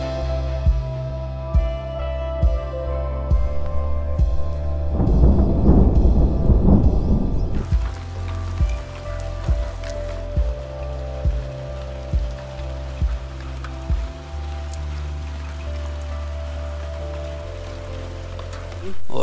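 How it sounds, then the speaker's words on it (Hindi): A deep roll of thunder builds and rumbles midway through, outdoors in a Pahadi hill village before rain, over a steady low hum and regular soft knocking. "मतलब हल्की हल्की बूंदे तो गिरी है"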